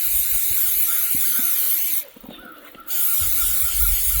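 An aerosol reproofing spray hisses steadily onto an oilskin hat, close and continuous, broken by one brief pause before the spray resumes.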